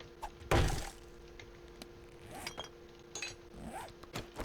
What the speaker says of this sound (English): Got a fire axe for a reason.